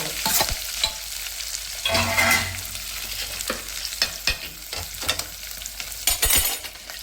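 Green chillies and onions fry in a hot pan, a close crackling sizzle broken by sharp spatula scrapes and taps as they are stirred, with no talking.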